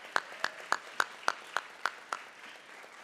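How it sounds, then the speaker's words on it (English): Applause at a school academic signing event honoring students' accomplishments, heard as about eight evenly spaced claps, crisp and moderately close, that stop abruptly with no talking. "let's give everyone up here one more round of applause for their accomplishments"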